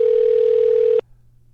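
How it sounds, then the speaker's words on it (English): A phone call tone: a steady electronic single-pitch tone holds for about a second, then cuts off abruptly as the call drops straight to voicemail, leaving only faint background hum. "I don't know why it would immediately have gone to voicemail."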